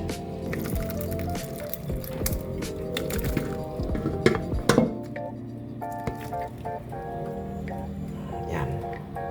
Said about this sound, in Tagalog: I-drain na natin siya para mawala yung tubig.